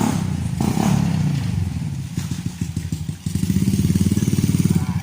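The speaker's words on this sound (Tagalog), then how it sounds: "Noy, ito na yung motor mo, Noy, oh, Richard." A motorcycle engine runs loudly nearby, idling with a rapid chugging pulse that steadies into a fast, even putter.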